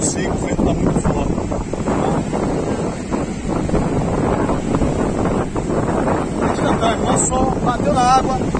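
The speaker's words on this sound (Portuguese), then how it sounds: "o vento tá muito forte." Strong sea wind roars and buffets the microphone continuously aboard a boat at sea, loud and steady, with a person talking through it.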